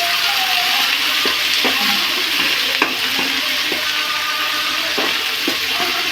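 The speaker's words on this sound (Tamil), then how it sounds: "நல்லா வதக்கி விட்டுக்கிடுவோம்" Onions, green chillies and ivy gourd leaves sautéing in a pan, a loud steady sizzle up close with regular scraping stirs of the spatula.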